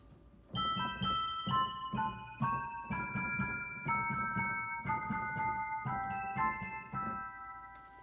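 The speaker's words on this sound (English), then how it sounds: "That is the Dance of the Sugar Plum Fairy from the ballet The Nutcracker by Tchaikovsky." A synthesizer set to a celeste voice plays the solo from Tchaikovsky's Dance of the Sugar Plum Fairy from The Nutcracker, bright bell-like notes in a delicate, steady rhythm, clear and close with nothing else heard.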